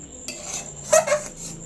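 A spoon scrapes and clinks against a bowl while mango paste is mixed for sandesh, a few quick metallic taps and stirring scrapes, close and clear.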